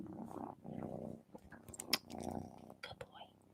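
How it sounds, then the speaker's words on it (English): A male pet cat purring at close range, a soft continuous low rumble running under a woman's gentle murmured speech. "I wonder if y'all can hear him purring."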